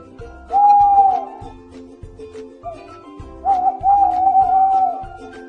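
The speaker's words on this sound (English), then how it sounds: "O for owl." An owl hoots twice in long, drawn-out whistling tones, the second call longer and wavering, clear and fairly loud over a quiet background.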